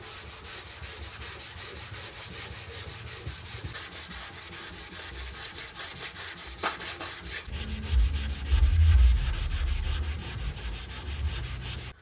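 Hand sanding of a 1979 Plymouth Volare wagon's car body with 220 grit sandpaper, a steady close rasping rub that runs continuously and grows louder and rougher toward the end.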